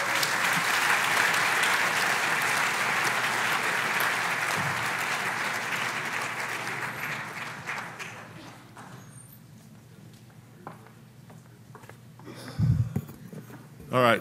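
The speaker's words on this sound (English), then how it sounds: "another round of applause" A conference audience at the Slow Money National Gathering breaks into sustained, loud applause that fades gradually to scattered claps, with a voice speaking over the room near the end.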